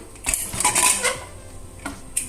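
Metal clinks and clatters of a pressure cooker lid being handled and lifted after the steam has released, a few sharp knocks and scrapes with quiet gaps between.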